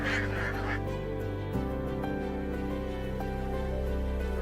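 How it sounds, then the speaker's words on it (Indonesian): Ducks being herded to a rice paddy on a farm give a steady run of honking, goose-like calls that carry on through the whole stretch, loud and close, with no talking over them. "kita giring bebek ke sawah biar makan"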